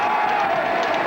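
A football crowd reacts at a Meath senior football final between Navan O'Mahonys and Trim, a steady wash of laughter and cheering voices at a fairly loud, even level.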